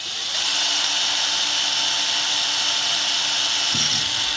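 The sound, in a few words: power drill drilling while making a neon sign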